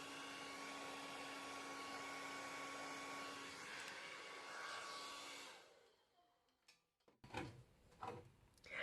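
Hair dryer blowing on acrylic-poured acorns, a steady loud whoosh holding for about five seconds before cutting off, followed by faint handling clicks and knocks.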